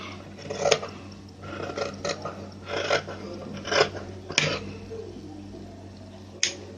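Fabric is cut for a sleeve piece from folded cloth, with soft, repeated snipping and rasping strokes at a roughly regular pace, close and fairly quiet, with no talking.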